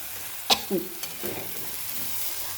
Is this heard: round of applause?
no